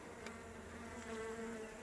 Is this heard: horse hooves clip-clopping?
no